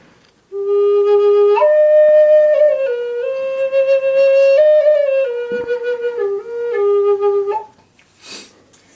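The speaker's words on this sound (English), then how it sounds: "I think that it produces a very, very nice sounding flute" A handmade flute by Paul Venable plays a clear, breathy melody of sustained notes that step up and down, close and steady for about seven seconds, with no talking.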